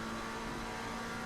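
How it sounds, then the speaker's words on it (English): A McLaren 720S engine revs hard under a quick stab of throttle in the racing game Assetto Corsa Competizione at the Kyalami circuit, a loud, steady mid-pitched roar heard alone. "Just had to stab the throttle a bit there"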